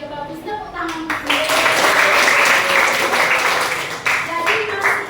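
Pupils in a classroom clap together in a lively burst of applause that swells and then tapers, with a teacher's voice speaking over the start and again near the end.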